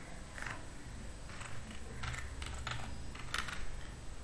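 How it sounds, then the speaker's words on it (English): Light typing on a computer keyboard, a few scattered clusters of soft keystroke clicks at an uneven pace, close but quiet, with no speech. "I am using a text box here and typing"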